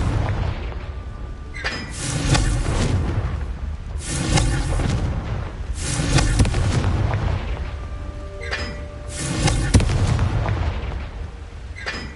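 The Confringo fire spell going off in Hogwarts Legacy: repeated booming blasts roughly every two seconds over a constant dense rumble, loud and heavy, with no talking.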